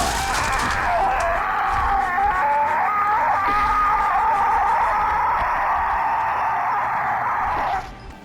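A Lambent Wretch enemy in the Gears of War video game lets out a loud, sustained, wailing scream that holds for about eight seconds before cutting off abruptly.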